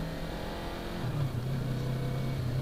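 Steady engine drone from a Yamaha R3 motorcycle being ridden, a low sustained hum that rises slightly in pitch partway through and holds, close and continuous with no talking.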